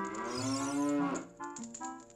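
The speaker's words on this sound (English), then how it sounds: "I can't talk to the cow." A cow in the video game Ocarina of Time lets out a long, close moo that dips in pitch, followed by a shorter second low call, alone with no talk.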